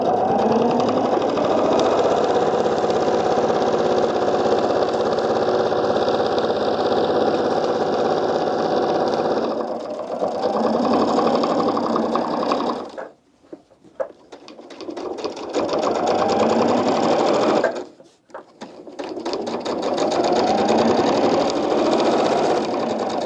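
Sewing machine stitching fabric for a quilted sneaker, a loud steady motor whir with rapid needle clatter that runs long, stops briefly twice, then resumes.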